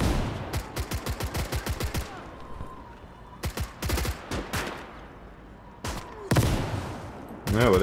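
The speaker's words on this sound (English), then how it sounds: "Yes, my artillery gun fired." Gunfire in the Gates of Hell battle game, a rapid burst of shots, then more scattered bursts and a heavier, louder boom near the end, with someone speaking between them.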